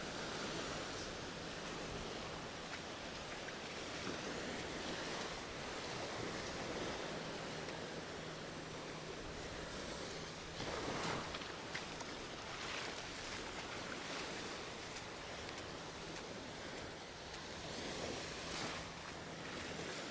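Soft, steady wash of Caribbean waves breaking on a beach at Playa del Carmen, Mexico, a continuous gentle surf with occasional slightly stronger swells.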